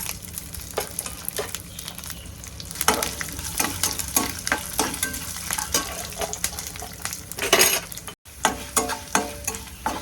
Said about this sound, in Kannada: ಜೀರಿಗೆ ಅರ್ಧ ಸ್ಪೂನ್ ಹಾಕ್ಕೊತೀನಿ. ಮತ್ತು ಕರಿಬೇವು ಸೊಪ್ಪು ಸ್ವಲ್ಪ ಹಾಕ್ಕೊತೀನಿ. ಉದ್ದಿನಬೇಳೆ, ಕಡಲೆಬೇಳೆ ಹಾಕ್ಕೊತೀನಿ.